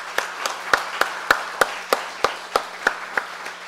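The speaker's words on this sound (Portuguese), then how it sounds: "Peço agora uma salva de palmas para todos os professores." Applause for teachers at a council session, here reduced to a few sparse, evenly spaced claps, about a dozen distinct slaps in a slow steady rhythm over a quiet room with a low hum.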